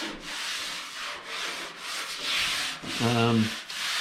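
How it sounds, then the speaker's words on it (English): Steady abrasive grinding of silicon bronze welds on car bodywork after dent pulling, a continuous rasping rub that swells and eases in strokes, with a brief tonal whine near the end. "I've silicon bronzed them all up. I've got to grind them off"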